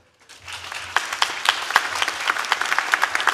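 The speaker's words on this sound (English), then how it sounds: "let's give a big round of applause for everyone who has helped us on our journey" A graduation ceremony audience in a university hall breaks into applause, swelling quickly from quiet into dense, sustained clapping with sharp individual claps standing out near the front.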